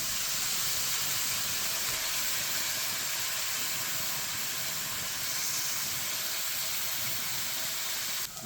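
Venison browns in a hot pan with a loud, steady hiss and crackle that holds throughout, no talking over it.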